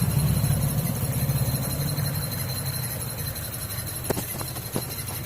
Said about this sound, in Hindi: तो ये आवाज़ आती है क्लच के मूवमेंट पे।